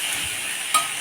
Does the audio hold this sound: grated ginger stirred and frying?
yes